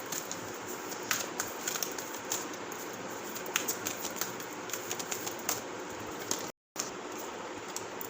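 Tarot cards being drawn and shuffled make faint, scattered papery clicks and flicks against a steady hiss, with a brief dropout near the end and no voice.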